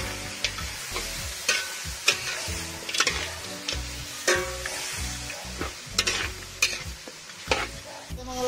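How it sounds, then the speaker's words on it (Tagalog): Pork ribs fry in their own rendering fat for caldereta while a utensil stirs them, producing repeated clacking scrapes against the pan over a constant sizzle, close and prominent, with no speech. "Ihalo natin. Isa lang natin maigi hanggang sa lumabas yung sarili ng mantika."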